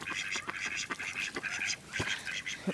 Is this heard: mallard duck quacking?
yes